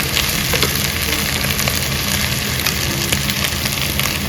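Chili powder frying in an Andhra-style country chicken curry, a loud dense sizzle that crackles steadily close by with no talking.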